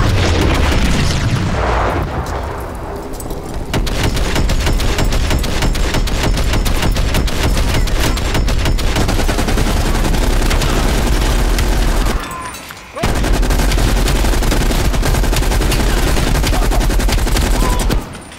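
Loud, sustained automatic gunfire fills a Call of Duty Black Ops Cold War campaign firefight, rapid shots stacked with booms and a heavy blast at the start, breaking off briefly near the end before resuming.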